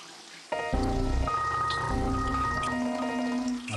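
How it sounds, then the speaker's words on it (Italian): A shower runs with a steady, close rush of falling water that continues without a break, while sustained musical tones play over it. "Buona doccia, caro Gennaro."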